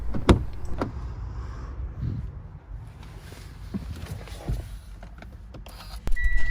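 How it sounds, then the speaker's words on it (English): The driver's door of a Kia, Hyundai or Mitsubishi car is opened with a few soft clicks and latch knocks. A sharper mechanical thunk comes near the end, over quiet background. "we open the driver's door"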